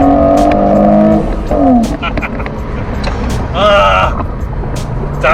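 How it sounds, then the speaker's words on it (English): A V8 car engine plays through speakers, revving and dropping in pitch as it downshifts, with people talking over it. "Yeah, it sounds like a V8."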